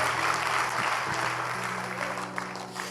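Congregation clapping during a church service, a sustained wash of hand claps over a low steady hum, fairly even in loudness and without speech on top.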